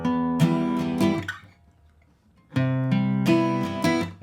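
An acoustic guitar strums the first and third chords of a song intro in two short rhythmic bursts of ringing chords, close and clear, with a brief silence between them.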